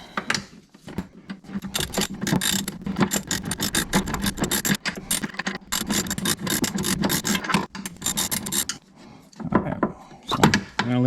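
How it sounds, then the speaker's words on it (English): A wrench ratcheting on 13mm bolts holding the jet pump bucket of a 2021 Sea-Doo GTI, rapid rasping clicks in repeated bursts with brief pauses between strokes, close and loud. "So more wrenching."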